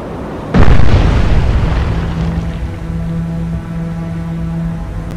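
Missile fired from a cruiser's vertical launch system in the naval game Cold Waters: a sudden loud blast, then a sustained roaring rush of the rocket motor that slowly thins into a steady hiss and low hum.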